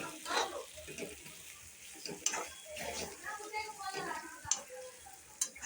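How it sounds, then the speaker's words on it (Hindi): Onion sizzling in melted butter in a pan for pav bhaji, a steady faint fry with occasional clinks and scrapes of stirring, heard close under someone speaking Hindi. "तो इसमें अब हम डाल देते हैं ऑनियन, इसको मिक्स कर लेते हैं।"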